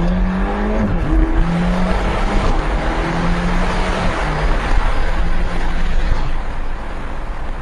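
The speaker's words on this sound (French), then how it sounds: "On va le mettre juste un peu en mode sport pour accélérer un petit peu tout en étant raisonnable parce que on n'est pas des fous." A Ferrari GTC4 Lusso T in sport mode accelerates on the road, its engine note climbing through several rising pulls over steady, heavy road and wind noise inside the car.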